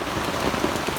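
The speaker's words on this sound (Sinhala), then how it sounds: "පට්ට වැස්ස" Heavy rain storm pouring down during outdoor cooking of pol roti and a bamboo omelette, a loud dense hiss of rain drumming close on surfaces throughout.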